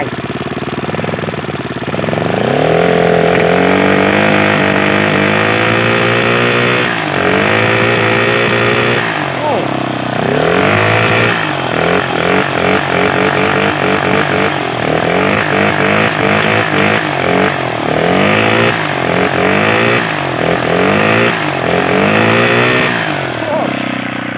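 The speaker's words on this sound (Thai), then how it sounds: "เครื่องนี้เวลาเราเร่งนี่ขึ้นขึ้นตามมือเลยครับ" A motorcycle engine driving a 3-inch water pump revs loudly and repeatedly close by, its pitch climbing and dropping with each twist of the throttle over a steady idle.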